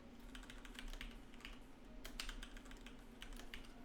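Rapid, irregular typing on a computer keyboard, the clicks close and steady throughout with a low hum in the background and no talking.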